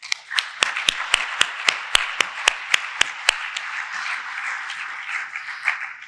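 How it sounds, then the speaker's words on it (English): A conference audience at IEEE VIS 2022 gives a round of applause to early career researchers, with a wash of crowd clapping punctuated by a dozen sharp, loud, close single claps that stop partway while the general applause fades. "let's give our early career people another round of applause"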